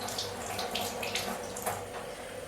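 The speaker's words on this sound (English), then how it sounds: "I'm running the water now." Water runs steadily from a bathroom tap into a sink, a continuous soft hiss and splash at moderate distance with no voices.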